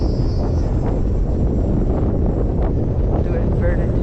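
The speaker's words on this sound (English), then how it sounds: "I'm having a lot of wind shear today" Strong wind roars steadily across the microphone outdoors, a dense, unbroken rush under brief faint voice fragments.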